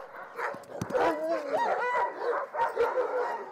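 Sled dogs at a dog sledding business bark, yip and whine in a close, excited cluster, several short calls overlapping one another with no speech.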